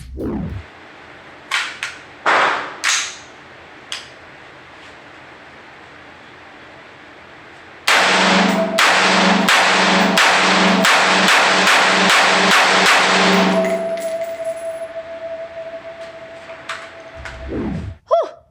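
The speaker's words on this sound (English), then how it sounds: "It's a semi-automatic, shoots one round at a time when you pull the trigger. So let's shoot it and see how it is." A semi-automatic rifle fired one round per trigger pull: a few sharp separate shots first, then a fast run of loud evenly spaced cracks lasting several seconds, close and echoing, with a steady ringing tone trailing after.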